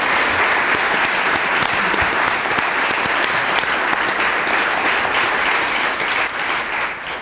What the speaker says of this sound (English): Please give a round of applause to all of our panelists for agreeing to share their expertise.